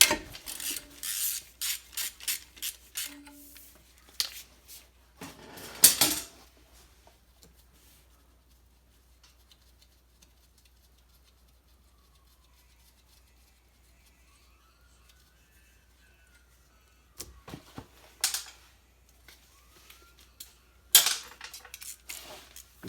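While a turbo is swapped on a 3SGTE gen5 engine, a wrench rasps and clicks in quick bursts to back a nut off a stud, then goes quiet for a long stretch before a few more scraping bursts.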